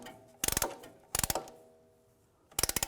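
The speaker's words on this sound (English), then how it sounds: "We're going to compress that piston. Just use a compressing tool." A brake piston compressing tool pushes back the front caliper piston on a 2004-2010 BMW X3, giving three bursts of rapid ratcheting clicks, each about a quarter second long, close and fairly loud, with quiet gaps between.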